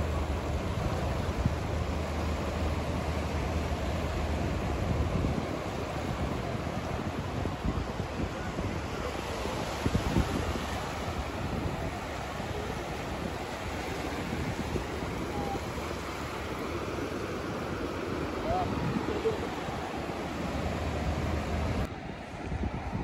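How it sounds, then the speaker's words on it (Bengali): Sea waves at Inani beach, Cox's Bazar, wash in as a steady broadband roar mixed with heavy wind buffeting the microphone, continuous and fairly close, with no clear voices. "পানি দেখেন, সাগরের ঢেউ।"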